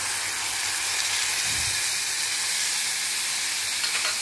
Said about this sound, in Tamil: வெங்காயம் நல்லா வதங்கி எடுத்து இப்போ வந்து தக்காளியை ஆட் பண்ணிக்கிறேன்.